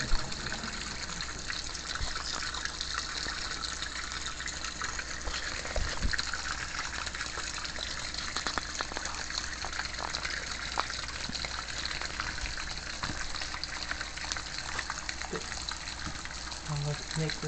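A Maytag washing machine fills with water, a steady rushing gush that holds level throughout, with a few faint clicks and knocks.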